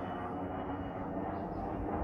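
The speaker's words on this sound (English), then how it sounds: "And the airplane is very low." A low-flying airplane passes overhead on a foggy day at an outdoor log bridge build, a steady broad engine roar heard at a distance without any talk.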